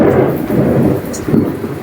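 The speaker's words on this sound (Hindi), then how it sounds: "बहुत जोर की बारिश हो रही है, सुबह सुबह बहुत तेज बारिश हो रही है" Heavy rain pours steadily, loud and close, with deep rolling thunder in a short burst.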